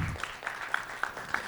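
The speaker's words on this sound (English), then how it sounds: "So really round of applause for them also." Brief patter of audience applause at a panel discussion, a soft spread of claps with a few sharper hits standing out, fairly faint and short.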